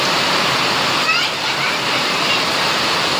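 Heavy rain drums on tin roof sheets, a loud, continuous, dense rushing clatter heard close by, steady throughout with no clear pauses.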